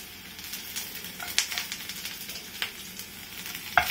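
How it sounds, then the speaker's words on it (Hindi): Onion and garlic fry in hot mustard oil, giving a continuous close crackling sizzle broken by a few sharp pops and spits, with no talking. "और लहसुन, दोनों चीज़ें मैंने इसमें ऐड कर दी हैं। इनको भून लेंगे।"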